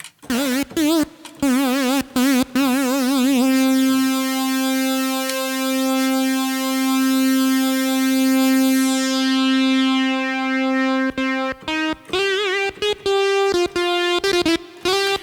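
A buzzy Arturia MiniBrute synthesizer lead plays bright, harmonically rich notes with slight glide, vibrato-wobbled phrases around a long sustained tone, then quick stepping notes.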